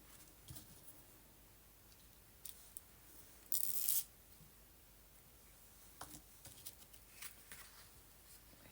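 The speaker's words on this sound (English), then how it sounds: "I can cut off the stem a bit so I don't need to have" Scissors snip the stem from a botanical print for a journal decoration, a single short crisp cut standing out briefly against quiet paper-handling rustles.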